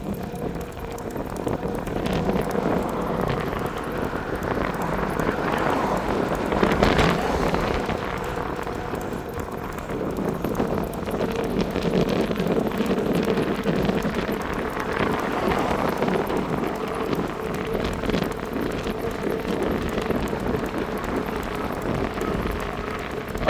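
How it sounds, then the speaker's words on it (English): Steady, roaring wind noise buffets the microphone throughout on a dog walk along Evans Bay Parade, with gusty swells rising and falling and no voices. "Oh, it's so windy."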